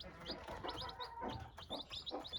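Young chicks of a speckled hen in a chicken coop peep in quick, high, repeated chirps, several small birds calling in short clusters, faint and close, with no talk.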